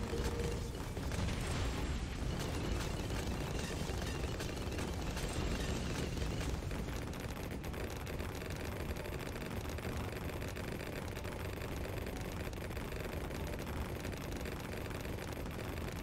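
Dense, constant barrage of pops, bursts and mechanical clatter from a Bloons TD 6 match as the Moab Eliminator tower shreds balloons, a loud unbroken wall of game effects with no pauses.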